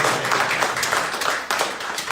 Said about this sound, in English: Clap for yourself, everybody.